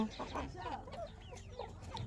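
Young Parla roosters, good-sized cockerels kept together, clucking and calling in short irregular bursts at close range, with a voice speaking over them.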